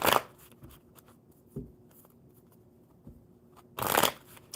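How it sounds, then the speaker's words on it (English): Playing cards are riffled and shuffled during a live coffee-club card session, with a burst at the start, light taps in between, and another louder riffle near the end, close and fairly quiet. "One more good shuffle for Sophie."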